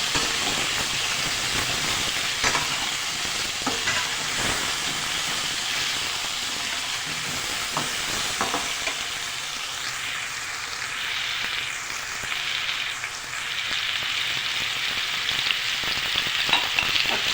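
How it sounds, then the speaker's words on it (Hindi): Potatoes frying in oil with cumin, mustard seeds, asafoetida and whole coriander, giving a loud, dense, continuous sizzle that runs the whole time with a few faint stirring clicks, close up and with no talking. "इसके अंदर अभी हम आलू को फ्राई कर दें।"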